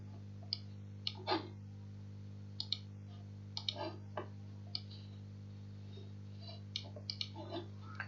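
Computer mouse clicks while logging into FlexiHub software: faint, sparse single clicks and short double clicks spaced irregularly over a steady low hum.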